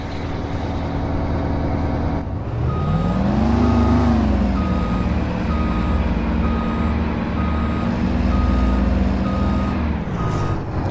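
A grain truck backing up on a farm near a grain bin, its diesel engine droning loudly while a steady backup alarm beeps at an even pace, close by and with no voices.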